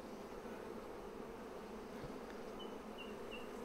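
Honey bees buzz over a brood frame from a Flow Hive split. The soft, continuous hum comes from many insects, with an occasional higher whine of a passing bee and no talking.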